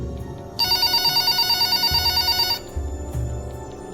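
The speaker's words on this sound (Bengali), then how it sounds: "এমন সময় আমার ফোনটা বেজে উঠল" A telephone rings in an audio horror story, with a bright electronic trill pulsing for about two seconds over a soft music bed, then stopping.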